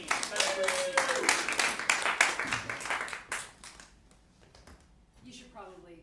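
Lively audience clapping for performers at an improv comedy show, dense and loud for about three seconds before fading out, with a voice speaking briefly over it and again as the clapping dies away.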